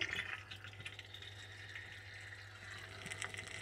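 A heavy duty clog remover bubbles and fizzes in a clogged sink drain, a faint, steady gurgling hiss over a low hum with no talking.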